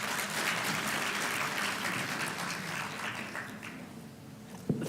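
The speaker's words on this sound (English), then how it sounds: "10 winners, let's give them a round of applause." Audience clapping for competition winners at a school challenge prize announcement, dense sustained applause that slowly tapers off, ending with a single knock.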